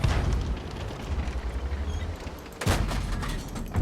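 Heavy tank cannon fire in the online game World of Tanks: a dense rumbling barrage of booms with a sharp loud blast near the middle, continuous battle noise throughout and no talk.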